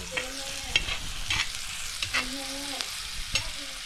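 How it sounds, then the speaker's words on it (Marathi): Onion tempering sizzles in hot oil on a tawa during Konkan home cooking. A soft, steady frying hiss runs throughout, broken by repeated stirring scrapes and clinks. "तव्यावरती असं तेल वगैरे तेलामध्ये अशी काही फोडणी पडली ना भारीच लागते"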